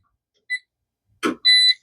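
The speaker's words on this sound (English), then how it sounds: "So I'm going to set a timer" A kitchen timer is set with a short electronic beep, a clunky button press, then a longer sustained beep, all close and clear in a quiet room.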